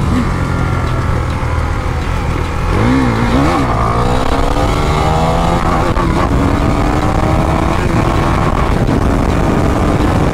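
A KTM Duke 390 motorcycle is ridden on the road, its engine loud and close throughout, with rising and falling pitch as it revs and shifts gears under heavy wind noise.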